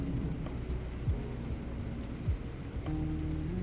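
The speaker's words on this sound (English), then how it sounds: "Rain is a great noise." Steady rain hisses softly in the background while faint, low rumbles of thunder roll through, with no voices.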